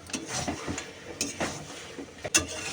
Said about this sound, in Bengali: এবার বড়িগুলো দিয়ে দেবো দেখো বড়িগুলো